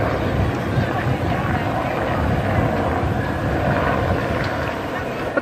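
Helicopters pass overhead, giving a steady, loud rotor and engine roar that fills the whole stretch and stays fairly even throughout.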